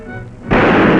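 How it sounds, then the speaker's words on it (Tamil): A single loud, abrupt gunshot fired in an old Tamil film scene, cutting in sharply after a quieter stretch and followed by a sustained roaring blast that fills the rest of the moment. "இந்த துப்பாக்கியார் சுட்டுடு."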